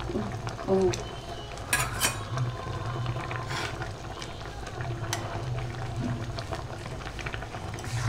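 Egg and soybean curry stirred in a pot, with a low bubbling simmer, intermittent clinks and scrapes of the spoon against the pot, and occasional quiet speech nearby.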